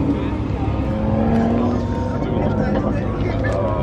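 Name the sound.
supercar exhaust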